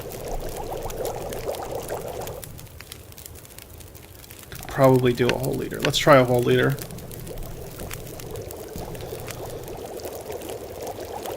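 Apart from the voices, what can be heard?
melting snow into water over fire, video game The Long Dark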